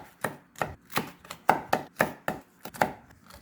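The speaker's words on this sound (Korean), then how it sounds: "청양고추는 좀 큼지막하게 썰어줄게요." A knife chops cheongyang chili peppers on a cutting board in about a dozen crisp, evenly spaced strokes, close and clear with no talking.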